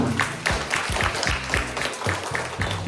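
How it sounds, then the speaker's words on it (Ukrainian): Audience applause at a Lviv cubing competition award ceremony, a moderate and fairly even burst of clapping in a hall with rhythmic thumps beneath, no voices over it. "Оплески"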